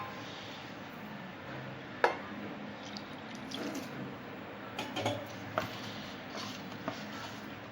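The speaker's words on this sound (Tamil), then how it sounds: "இப்போது லைட்டாக தண்ணி தெளிச்சிக்கலாம் மிக்ஸ் ஆகிறதுக்கு மாவுக்கு" Water sprinkled lightly over bitter gourd pakoda batter gives soft, faint patters and a few small drips and taps over quiet room noise.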